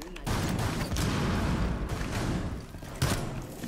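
Shotgun fire in Rainbow Six Siege, heard as dense, loud booming gunfire and rumbling game noise that runs the whole time, with one sharper blast near the end.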